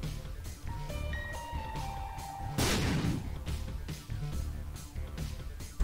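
A bomb explodes in The Binding of Isaac Rebirth as a single loud, broad burst cutting through steady game music, then fading quickly back into the music.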